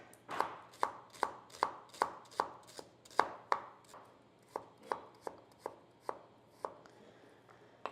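Shallots sliced thinly with a knife on a cutting board, a steady run of crisp close chops at a fairly even rhythm.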